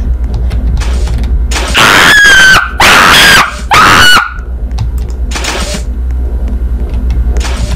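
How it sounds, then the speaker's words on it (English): A child screams in the Nanny horror video game, with several loud, shrill, wavering bursts in a row over a steady low rumbling game backdrop. "The child was screaming."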